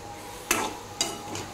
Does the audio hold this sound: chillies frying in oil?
yes